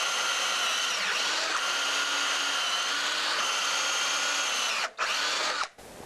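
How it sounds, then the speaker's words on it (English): A power drill bores tuner holes through a guitar headstock held in a slotting and drilling fixture, giving a steady, loud whine for about five seconds before cutting off in two brief stops. "drill the 3 holes on the other side in the same fashion"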